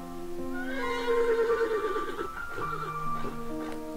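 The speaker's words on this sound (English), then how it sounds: "I hear horses. They don't sound far off." Horses neigh in the Mad Father video game, a drawn-out whinny rising and falling over about two seconds with a softer call after it, set against a sustained tonal game background with no talking.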